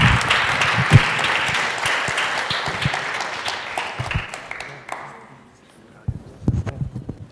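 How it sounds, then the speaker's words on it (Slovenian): An audience at a lecture on stem-cell treatment of heart failure applauds loudly for about five seconds, the clapping thinning and fading out, followed by a few scattered claps and knocks. "Še en aplavz bom prosil"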